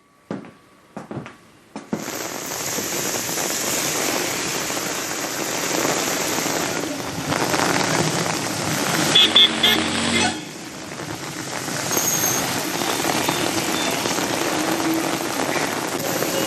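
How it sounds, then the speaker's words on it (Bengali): Heavy evening rain pours down in Purulia as a dense, steady roar that starts abruptly after a few brief knocks and keeps going at an even, loud level. "সন্ধে নামতেই পুরুলিয়ায় স্বস্তির বৃষ্টি মুসলধারায় বৃষ্টিতে খানিক আরাম শহরবাসীর"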